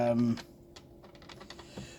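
Keys clatter in quick, irregular taps on an old Mesh PC's internet keyboard. A brief tonal beep or hum comes first, and a faint room murmur sits underneath.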